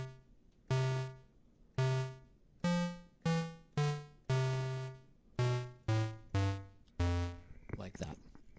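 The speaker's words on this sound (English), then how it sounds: "So that's the damped percussive sound." Synthesized damped percussive envelope tones, a run of nine sharp-attack harmonic notes that each decay quickly, played in a loose rhythm, ending in a brief noisy burst.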